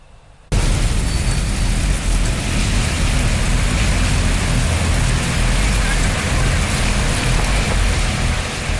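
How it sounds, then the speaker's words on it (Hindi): Heavy rain and strong storm winds of Cyclone Amphan lashing Bengal and Odisha at night, a dense, steady roar of downpour and gusts that bursts in loudly after a brief quiet moment and continues without pause. "देर रात एक तेज बारिश और तूफानी हवाएं दोनों राज्यों को झकझोरती रहीं"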